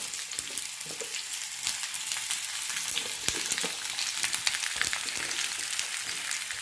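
Garlic, onion and tomato sizzle steadily in a pan, a close, continuous crackling fry with small pops and occasional stirring scrapes, no voices.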